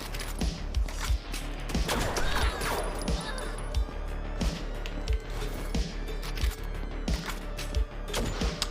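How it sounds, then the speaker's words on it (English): A shotgun firing repeatedly in a video game, sharp loud blasts landing at a fairly steady pace amid clattering mechanical game effects and a busy background. "Oh, it's a shotgun!"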